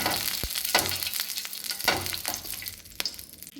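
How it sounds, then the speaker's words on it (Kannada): Oil sizzles and crackles on a greased hot tawa, a steady close frying hiss broken by a few sharp pops and scraping strokes. "ಈಗ ಒಂದು ತವ ಇಟ್ಟಿದ್ದೀನಿ. ಸ್ವಲ್ಪ ಎಣ್ಣೆ ಹಾಕ್ಕೊಂಡು ಅದಕ್ಕೆ ಗ್ರೀಸ್ ಮಾಡುವ"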